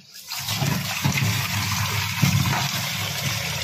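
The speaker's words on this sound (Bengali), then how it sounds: "মাছটা ধুয়ে রেখে দিই।" Fish being rinsed under a running kitchen tap, a steady rushing and splashing water stream that starts abruptly and continues evenly at close range, with no speech.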